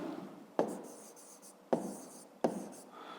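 Numbers being written by hand during a fifth-grade maths lesson, heard as three separate scratchy pen or chalk strokes, each beginning with a sharp onset and trailing off, fairly quiet and close with no talk.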